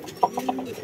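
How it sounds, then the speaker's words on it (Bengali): A native pigeon nesting in a rooftop corner coos to call its mate, giving a few soft, low, fairly close coo notes in a short burst. "বসে একটা দেশি কবুতর, ওটা হলো ডিম পাড়ার জন্য তা দিচ্ছে। ওর মাদিটাকে ডাকতেছে।"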